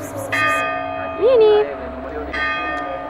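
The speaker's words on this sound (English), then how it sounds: "Oh, and there's the church bell. Rings at every hour, quarter of an hour, and half hour." A church bell tolls the hour in the hilltop town of Sant'Agata sui Due Golfi, steady resonant strokes heard near a bar while people talk over it.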